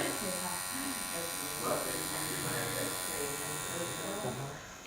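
A permanent makeup tattoo machine for ombre brows buzzes steadily and close throughout, with a constant electric hum under people talking.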